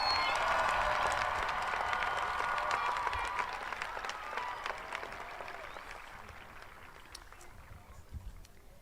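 A graduation audience at a 2022 high school commencement breaks into loud applause and scattered cheering that starts full and gradually thins out, a few isolated claps lingering at the end.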